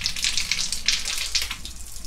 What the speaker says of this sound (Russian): вода потекла